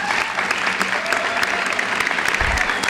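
A crowd claps for graduates at a high school graduation ceremony, dense sustained applause filling the whole stretch, with a low thump near the end.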